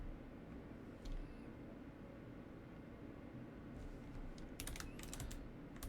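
Keys tapped on a computer keyboard while entering Ubuntu terminal commands, a few faint clustered keystrokes near the end over a steady background hiss.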